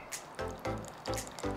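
Ice water poured into Korean chive and shrimp pancake batter, heard as a few close, quiet splashing and dribbling bursts in an uneven rhythm with no talking.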